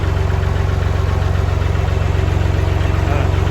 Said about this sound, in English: Can I just tell you how much I enjoy running a tractor?